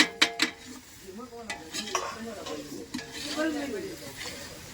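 Onion and green garlic sizzle in a pan while a utensil stirs and knocks against the metal, with sharp clinks at the start, then scraping and frying hiss, close and fairly loud.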